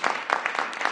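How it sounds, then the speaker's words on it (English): Applause breaks out from an audience at a Washington, DC mayoral event welcoming a DC Council member, a brief, dense burst of many hands clapping at steady loudness. "Give her a round of applause."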